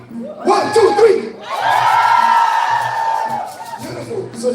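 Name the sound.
audience screaming together on a count of three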